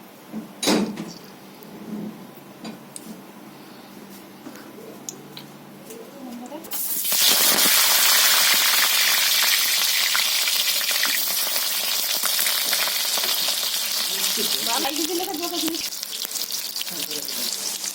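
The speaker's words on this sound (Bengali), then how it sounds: "এখন কড়াইতে আমি তেল দিয়ে দিচ্ছি বন্ধুরা" Oil goes into a kadai for a desi chicken curry. After some quieter clinks and handling, it bursts into a loud, continuous sizzle that holds steady close up until the end.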